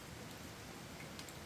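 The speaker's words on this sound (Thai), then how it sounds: "ตอนนี้มันนั่งหลบฝนตกนะครับหลบฝนก่อน" Rain falls steadily outdoors in a dense, even hiss that holds at a constant level, with no breaks and no voices.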